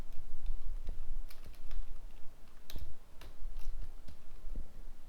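Typing on a computer keyboard during HTML coding, with irregular bursts of close, crisp key clicks over a steady low background hum and no talk.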